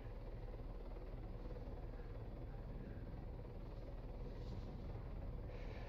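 A helicopter in Arma 3 drones steadily as it flies in to land, its rotor and engine giving a constant low rumbling hum that stays faint and even throughout, with no voices.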